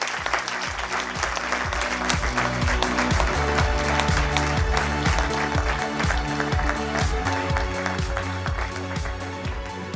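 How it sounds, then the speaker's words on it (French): A large audience applauds steadily for pastry chef Nina Métayer at an event, the dense clapping sustained for the full stretch over a rhythmic musical backing. "Merci d'applaudir très fort."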